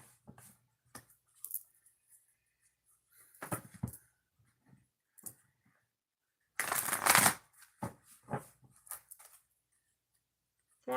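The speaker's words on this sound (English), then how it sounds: "3 shuffles." A deck of cards being shuffled in several quick riffling bursts, with pauses between, the loudest burst near the middle; close by and otherwise quiet.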